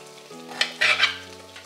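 Okra sautés in a pan for sambar, a short sizzle with a couple of stirring scrapes over a low steady hum.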